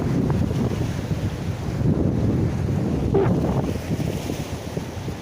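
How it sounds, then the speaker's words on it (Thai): Gentle sea waves along the beach at Ban Na San, Hua Sai, heard as a steady low wash of surf mixed with heavy wind rumble on the microphone, fairly loud and continuous with no speech. "คลื่นก็ถือว่าไม่แรงมากครับวันนี้"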